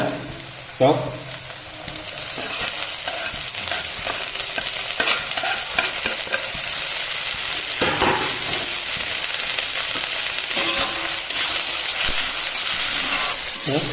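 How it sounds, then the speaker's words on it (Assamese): Flowers sizzle and fry in a hot pan beside duck egg, with steady hissing and repeated scraping stir strokes; faint voice at times. "চাওক ফুলবোৰ ফ্ৰাই হৈ গ'ল।"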